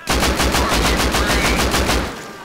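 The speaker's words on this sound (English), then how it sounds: "I'm already getting shot at, dude" Rapid automatic gunfire from the survival video game Rust, a dense burst of loud, evenly spaced shots lasting about two seconds before trailing off.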